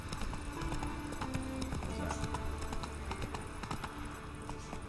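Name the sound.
horse Roach's hooves in video game The Witcher 3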